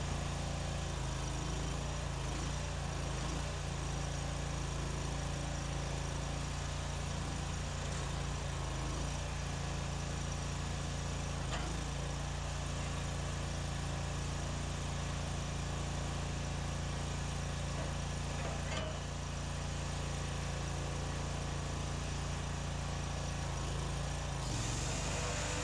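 Firewood processor engine running steadily with its choke being adjusted, a loud continuous droning rumble with a constant low hum that barely changes until a slight shift near the end.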